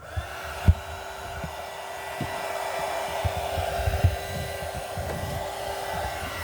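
A hair dryer blows steadily and close while drying a wooden craft box, a constant whooshing hum with a sustained tone, punctuated by scattered soft knocks and taps, and no one speaking.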